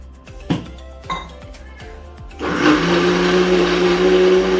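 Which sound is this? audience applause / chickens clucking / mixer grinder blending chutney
mixer grinder blending chutney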